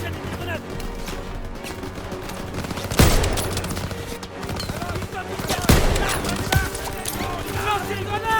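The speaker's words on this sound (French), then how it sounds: "Mitrailleuse dans l'escalier aussi!" Machine gun fire rattles through a dense Call of Duty WWII battle, with overlapping bursts, explosions and loud combat noise throughout, while soldiers shout over the din.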